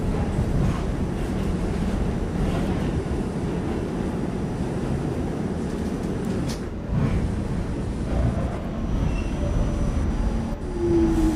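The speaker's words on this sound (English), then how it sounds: "This is a Grasslands Turnpike bound M train." An M line subway train on the New York system runs steadily, a loud continuous rumble and rattle of rails and wheels with a brief screech near the end, no talking.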